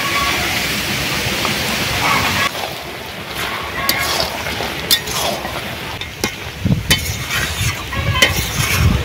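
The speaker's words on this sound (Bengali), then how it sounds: "গরম মশলা দিয়ে একটু নেড়ে নিয়েছি" Duck meat curry is stirred in a pot after garam masala paste goes in, with close scraping, clattering stirs and a low sizzle under a steady background hiss.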